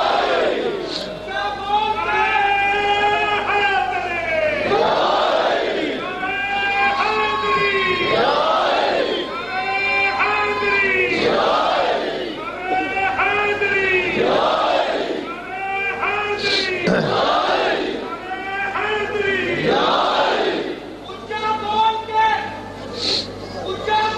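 A large religious gathering chants a slogan in unison, loud rhythmic shouted phrases repeating about every two to three seconds, the massed voices rising and falling together for the whole stretch.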